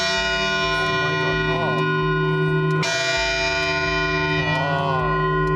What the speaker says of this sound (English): We even got to hear the bell ring before bedtime.